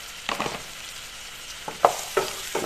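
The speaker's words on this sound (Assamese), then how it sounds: "এইখিনিও এনেদৰে লৰাই লওঁ" Ground coriander, cumin and salt get stirred into a mango chicken curry in a pan: a faint sizzle underlies four or five distinct spoon scrapes and stirs, close and fairly quiet, with no talking.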